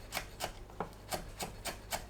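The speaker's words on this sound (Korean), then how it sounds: "청양고추, 홍고추를 작게 썰어줍니다." A kitchen knife slices Cheongyang and red chili peppers into small pieces on a cutting board, seven light, evenly spaced taps in a steady rhythm, close and soft, with no talking.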